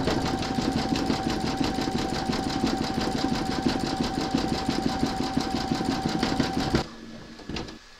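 A Brother embroidery machine runs steadily while stitching a tunic cuff, giving a loud, close, rapid mechanical rattle with an even rhythm that stops abruptly near the end, followed by a few faint clicks.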